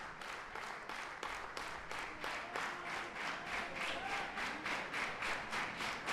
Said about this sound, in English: Crowd encouraging these two men on.